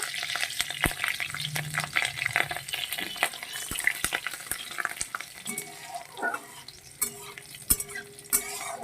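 Cumin, radhuni and green chili sizzling in oil in a pan, a soft frying hiss broken by sharp clicks and clatters of a spoon stirring against the pan, no voices.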